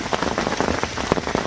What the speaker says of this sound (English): the old rain slapping it down